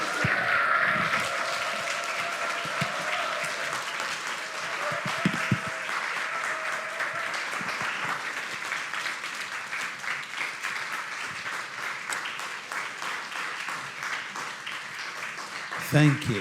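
Church congregation cheering and applauding during a Sunday worship service as guest pastors come forward, a long sustained stretch of clapping and cheers with voices mixed in, fading near the end.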